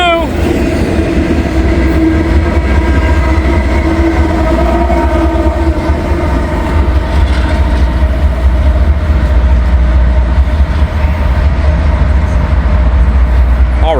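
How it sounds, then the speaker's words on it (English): A long freight train of auto racks with a distributed power unit rolls steadily past close by, a loud continuous rumble with wheel clatter and a sustained engine drone throughout. "There goes the first train of the day."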